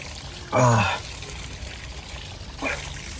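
Water pours in two short splashy bursts, the first longer and louder, separated by a quiet pause.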